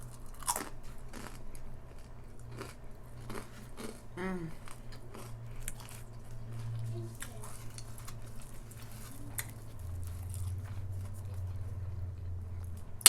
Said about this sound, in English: I like thin crust pizza because it has a crunch to it.